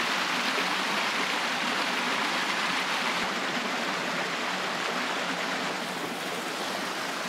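Water in a Washington State forest stream flows steadily beside moss, a constant close rushing wash that fills the whole stretch without a break.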